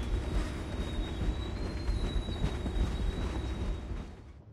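A lone train car rolling along rails in the video game Singularity, a steady, fairly loud rumble of wheels on track with a faint high squeal running throughout, fading out at the end.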